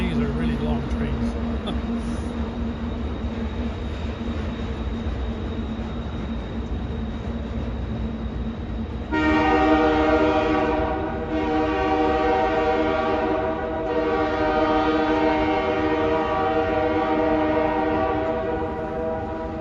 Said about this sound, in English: And these are really long trains.